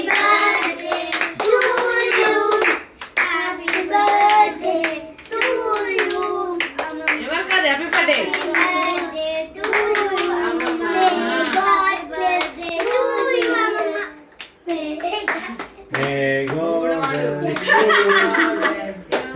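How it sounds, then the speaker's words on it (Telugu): People clap steadily along to a birthday song at a family celebration with children and a grandmother, rhythmic hand claps under children's singing voices throughout. "స్లోగా, క్లాప్స్ గట్టిగా."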